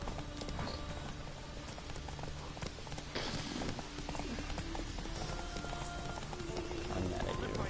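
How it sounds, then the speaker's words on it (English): Horse hooves clip-clopping in The Witcher 3 game, a steady run of hoofbeats over busy game ambience and music, with a voice talking over parts of it. "Guy riding a horse in front of me."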